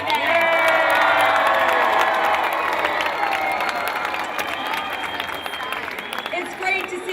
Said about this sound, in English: Now give yourselves a round of applause for being here today